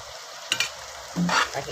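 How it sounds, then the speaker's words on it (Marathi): Turmeric, coriander-cumin powder and garam masala being stirred and sautéed on low gas for a quick ghevda bean sabzi: a couple of soft spoon taps, then a brief scraping stir over a faint, quiet sizzle. "हे मंदा गॅसवर परतून घेऊ"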